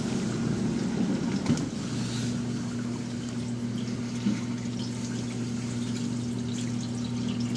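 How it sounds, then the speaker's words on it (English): A dishwasher running its cancel-drain cycle pumps water out through its drain hose, a steady close hum with a rushing, gurgling flow that holds constant throughout. "push the cancel drain on the dishwasher so I can watch that water pump out here"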